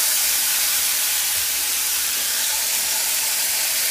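Sugar, oil and water heating together in a frying pan give off a steady, loud hiss and sizzle that holds evenly throughout without a break.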